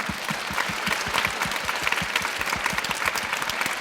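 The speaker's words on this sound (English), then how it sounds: "So let's give them some basic applause." An audience claps for event organizers, a sustained even patter of many hands with a low rhythmic thumping underneath.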